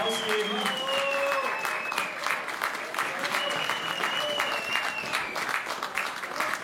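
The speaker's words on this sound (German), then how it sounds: "Lasst uns ihnen wirklich einen großen Applaus geben." Audience applause at a gospel choir concert in a hall, continuous clapping with whistles and cheers rising over it, a few voices audible in the crowd.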